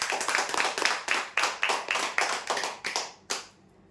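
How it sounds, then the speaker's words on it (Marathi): Applause at a lucky draw prize announcement: a few people clapping in a brisk, even rhythm of about a dozen claps, fairly close, stopping abruptly. "जोरदार टाळ्या"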